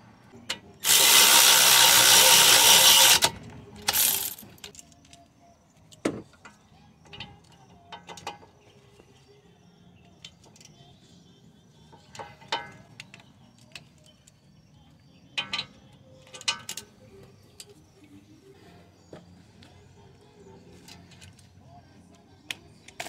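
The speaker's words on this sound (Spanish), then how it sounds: "ahora voy a proceder a, ponerle los tornillos al brake caliper aquí" Bolts of 15 mm are fitted to the brake caliper of a 2008–2012 Chevy Malibu 2.4. A loud power-tool burst lasts about two seconds, then sparse metallic clicks and clanks follow under quiet background.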